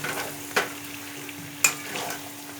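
Chicken and potatoes stir-fried in a pan, giving a steady low sizzle. Two sharp scrapes or clacks of a spoon stirring sound out against the sizzle, with no talking.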